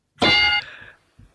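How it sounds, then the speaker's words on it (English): A single bell is struck once, giving a loud, bright ring that decays over roughly half a second, followed by a faint thump. "We're going to ding those bells"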